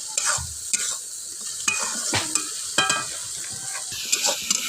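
A spatula scrapes and stirs fish curry masala in oil, giving repeated sharp scraping strokes over a low, steady sizzle, close and alone without any talk.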